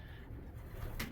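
Birds being handled for banding give soft, low coos, faint and brief against a quiet background hum, with no talk.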